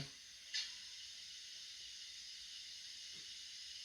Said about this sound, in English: Function 11 is an injector.